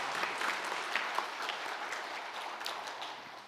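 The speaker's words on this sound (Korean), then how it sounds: "찬양의 박수 올려드리겠습니다." A church congregation at a Sunday worship service in Daegu claps in praise, a dense, steady applause heard at moderate distance throughout.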